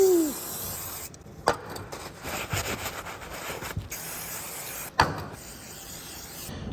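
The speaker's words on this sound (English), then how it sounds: "Brake cleaner!" Aerosol brake cleaner sprayed onto a JCB machine part in a workshop, a continuous hissing spray running most of the clip with brief pauses and a couple of sharp knocks.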